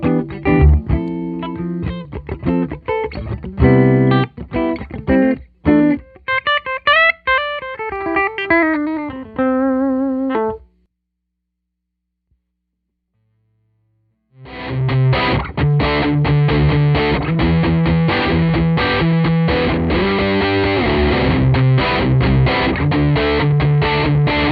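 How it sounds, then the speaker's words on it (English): Electric guitar played through a Phenyx Pro PTG-11 wireless system into a Fender Princeton 65 amp, loud distorted chords and a wavering lead line, a few seconds of near silence, then dense driven strumming to the end. "let me play the sound of this through the Princeton 65"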